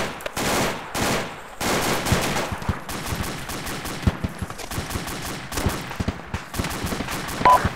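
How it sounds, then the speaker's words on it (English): Rapid bursts of automatic gunfire and single shots crack out in a military video game during a base defense against BTR armored vehicles, dense and loud throughout with short gaps and no talk. "Taking fire up here."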